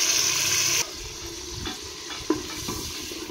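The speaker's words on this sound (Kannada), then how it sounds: "ಇದು ನೀಟಾಗಿ ಎಣ್ಣೆಯಲ್ಲಿ ಫ್ರೈ ಆಗಬೇಕು." Masala paste for mutton sambar fries in hot oil with a loud hiss that drops abruptly, followed by softer steady sizzling and a few scraping stirs of a spoon in the pan.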